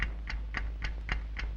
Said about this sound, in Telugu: ఏంటి టిక్ టిక్ శబ్దం వస్తుంది?